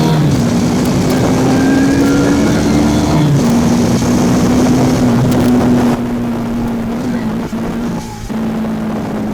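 A Hero Extreme 160R 4V Pro motorcycle engine runs with a steady, loud droning hum and shifts in pitch partway through, heard close amid wind noise, with no speech.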